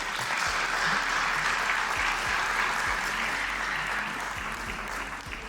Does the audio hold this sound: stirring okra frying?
no